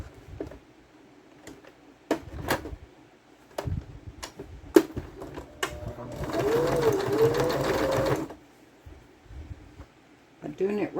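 A sewing machine runs a straight seam in the ditch on a fabric bag made from a grocery bag, a steady close whirring lasting about two seconds, with scattered clicks and handling taps before and after.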